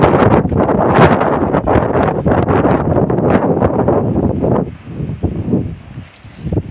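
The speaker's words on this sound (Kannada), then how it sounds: "ಗಾಳಿ ಜಾಸ್ತಿ ಇದೆ, ಅದಕ್ಕೋಸ್ಕರ ಸರಿಯಾಗಿ ಕೇಳಿಸಲ್ಲ ಅಂದ್ಕೊಂಡಿದ್ದೀನಿ" Heavy wind buffets the microphone in loud, roaring gusts, easing somewhat toward the end into softer rumbling bursts.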